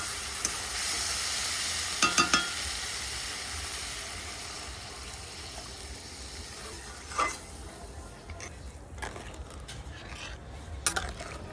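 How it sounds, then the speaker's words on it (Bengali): Water poured into a pan of sizzling Bengali curry, a steady hiss of frying and steam with brief clinks of a utensil against the pan, heard close and alone. "এখন জল দিয়ে দেবো"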